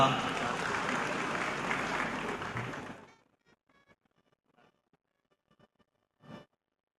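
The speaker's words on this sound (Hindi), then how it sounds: "Please give thundering applause" An audience at a court inauguration ceremony in Ambernath, where the Thane police commissioner is honoured, applauds loudly and steadily for about three seconds, then falls silent apart from a few faint sounds and a short final noise.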